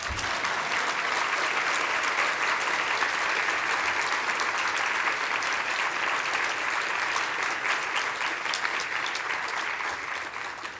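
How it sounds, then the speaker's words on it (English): A large synod congregation applauds a bishop's wife, a dense, steady clapping that fills the room evenly for about eleven seconds before easing slightly at the end. "You can clap."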